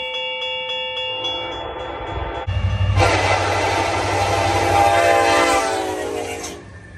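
A CN freight train hauling intermodal cars sounds a long horn, then rolls past loudly with a broad, rushing roar and rattle that fades toward the end.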